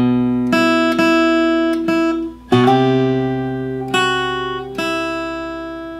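The opening riff is played on guitar: a handful of clear plucked notes with a slide, each ringing and decaying, played alone and close.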